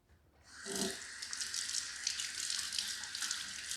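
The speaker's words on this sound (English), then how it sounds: "And now just rinse the inside as well." Tap water runs steadily over the inside of a Remington HC4250 Shortcut Pro hair clipper blade at a sink, a continuous close hiss of rinsing with a brief splash near the start.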